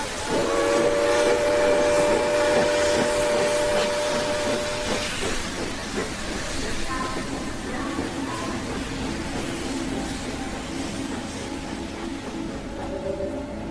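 Steam train pulling away from a small country station, with a whistle-like tonal blast up front over steady rumbling wagon noise that carries on loud and continuous throughout, staged as a radio drama effect.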